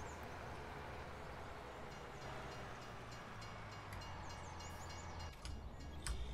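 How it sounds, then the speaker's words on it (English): A train rolls past in Farming Simulator 19, with a quiet, continuous rumble and clatter of rail cars that holds steady throughout with no talking. "Oh man, the train's in the way."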